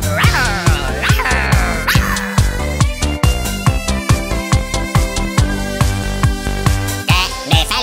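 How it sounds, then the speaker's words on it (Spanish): A little dog barks and yips in a rhythmic run of short, loud repeated barks over a bouncy children's song, continuing steadily throughout. "Chicos, ¿qué dice el perrito?"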